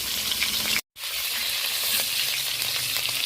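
Two sole fish heads sizzle loudly in oil in a pan as they are turned and stirred, a dense steady frying hiss with light scrapes, interrupted by one brief cut to silence.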